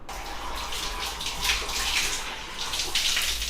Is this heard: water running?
yes